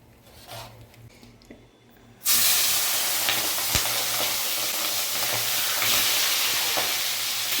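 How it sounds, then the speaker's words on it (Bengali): Prawns drop into hot salted mustard oil and burst into a loud, continuous sizzle that stays strong and even after a quieter opening of faint kitchen noise, with spitting crackles on top. "মাছগুলো আমরা ভেজে নেব।"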